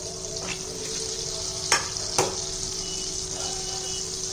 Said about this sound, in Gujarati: એક કડાઈમાં